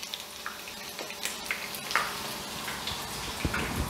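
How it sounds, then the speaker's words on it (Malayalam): Chicken pieces fry in a pan of oil for restaurant-style dynamite chicken, giving a steady close bubbling sizzle with scattered pops and faint scraping clicks throughout. "ഞാൻ ചിക്കൻ ഇവിടെ ഫ്രൈ ആക്കാൻ വെച്ചിട്ടുണ്ട്."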